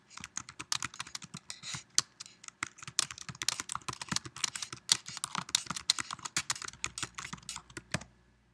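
Steady typing on a computer keyboard, a close, crisp stream of rapid key clicks with irregular rhythm and a few brief pauses, no voices.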